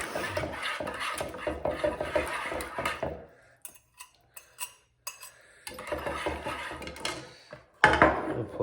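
A whisk scrapes and clatters rapidly against a pot, brisk rhythmic stirring that pauses briefly midway with a few isolated clinks before resuming.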